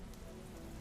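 Heavy storm rain pours steadily on a surface in a horror narration soundscape, a dense, even hiss of drops without pause, moderately loud and heard alone.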